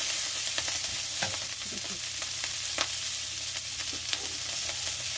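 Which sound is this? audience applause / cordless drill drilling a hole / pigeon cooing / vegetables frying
vegetables frying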